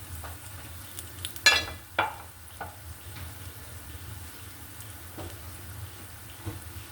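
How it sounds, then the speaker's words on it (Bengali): Taler pitha (palm cakes) frying in a small pan, a soft continuous sizzle with a few sharp utensil clinks and scrapes early on, then a steady low bubbling hiss. "পিঠেগুলো আমি উল্টিয়ে দিব কড়া করে ভাজতে হবে না হালকা করে ভাজলেই ভালো হবে"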